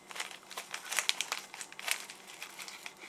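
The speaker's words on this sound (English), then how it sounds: "So I'll just open mini eggs." Crinkly plastic packaging of a bag of Mini Eggs chocolate candy rustles and crackles in short, close bursts for a few seconds as it is pulled open.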